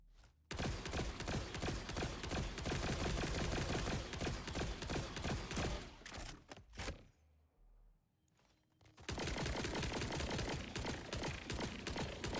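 The Big Encore gun in a video game fires long, rapid, loud bursts of shots with mechanical clatter. A brief lull near the end is followed by another sustained volley.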